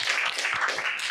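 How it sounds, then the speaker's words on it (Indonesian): Classroom students clap for fellow student groups, a short, light patter of hands that is faint and loosely rhythmic. "Tepuk tangan buat kelompok 5 sampai 8."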